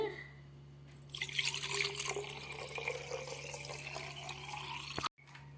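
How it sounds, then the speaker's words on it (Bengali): Water splashing and trickling into a pot at a home puja for Buddha Purnima, a steady close pour lasting several seconds before cutting off abruptly, with faint voices and a low hum beneath. "এর মধ্যে আমরা জল দিয়ে দিচ্ছি"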